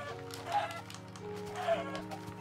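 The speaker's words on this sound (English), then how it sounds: "I'm going to come kill these chickens" Two short bursts of clucking from chickens in the video game Grand Theft Auto V over a steady low hum, fairly close, with a soft background drone throughout.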